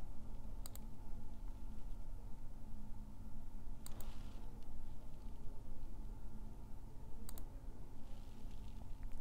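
Three single mouse clicks come from a computer running medical imaging software, spaced a few seconds apart and sharp but quiet over a constant low hiss.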